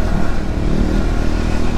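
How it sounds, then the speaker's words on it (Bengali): A motorcycle rides off-road over potholes near Mandarmani, its engine a close, loud, steady rumble with faint clatter from the rough ground and no speech. "কোনো ফিলই হচ্ছে না এই গাড্ডার উপর দিয়ে আমরা যাচ্ছি বাইকটাকে নিয়ে"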